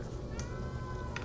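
A cat meows in the video game Stray, a soft high mew heard faintly over a quiet game background, with a second brief call near the end.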